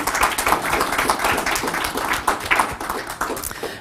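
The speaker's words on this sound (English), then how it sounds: "I'll ask you to give my panelists a round of applause" Conference audience members clap for the panelists at the close of a session, a thin scattering of individual hand claps with uneven rhythm, fairly close and modest in volume.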